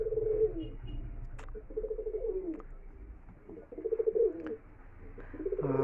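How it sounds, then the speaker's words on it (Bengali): A big-size Kalpol Kaldom female pigeon coos in soft, low, rolling calls that repeat several times at close range, with faint background noise and no talking. "কালপল কালদম, খুব বিগ সাইজের পায়রা"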